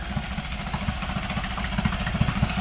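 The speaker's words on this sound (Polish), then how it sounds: "Silnik odpalił, jestem zadowolony." A Storm F6 engine runs just after its first start, idling close by with a rapid, slightly uneven low putter and clattery pulses.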